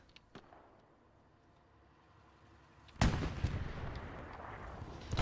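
Machine gun fire in a tank strategy esports game, a sudden burst of loud rattling gunfire and impacts after a few seconds of quiet, with occasional faint shots earlier.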